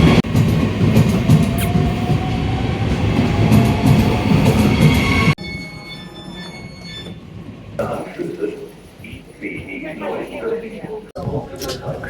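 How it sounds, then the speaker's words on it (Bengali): Train pulling into a station in Germany: a loud steady rolling rumble with wheel clatter and some squeal for several seconds, then quieter station ambience with shifting noises and someone speaking close by. "ও, আমার ট্রেন চলে এসেছে"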